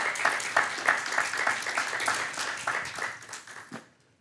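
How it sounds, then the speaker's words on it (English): A church congregation claps its hands in praise, a dense and fairly steady pulse of many hands in a reverberant hall that thins out and stops near the end. "give him a hand clap of praise"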